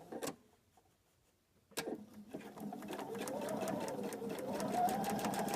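A sewing machine stitches a short seam on a braid template, its rapid mechanical whirring and needle clatter building steadily after a pause and a couple of handling clicks, close and fairly quiet.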